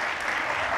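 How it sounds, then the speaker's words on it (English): A church-style audience gives Karen a warm round of applause, steady dense clapping that fills the whole brief moment. "I would love us to give Karen a huge round of applause"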